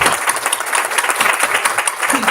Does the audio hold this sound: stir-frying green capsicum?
no